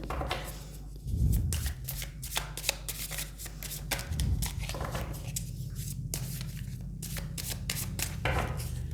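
Tarot cards are shuffled and drawn up close, giving rapid papery riffles and slaps in repeated bursts, with soft handling sounds and no speech.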